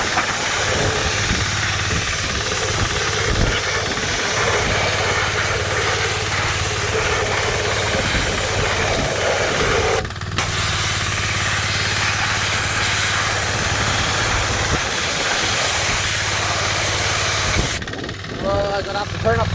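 A pressure washer sprays inside the engine bay of a 1978 Toyota BJ40, producing a steady, loud hiss and rumble that pauses briefly twice, with someone talking over it at times.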